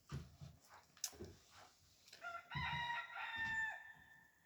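Roosters on a farm crow at close range, with one long cock-a-doodle-doo rising in the second half after a few short clucks and rustles, fairly quiet overall.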